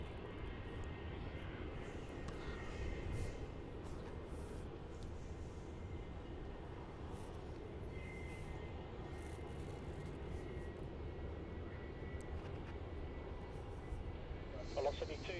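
Heavy jet airliners at Melbourne Airport give a low, distant engine rumble that holds steady throughout, with faint voices and radio chatter from the plane-spotting position over it.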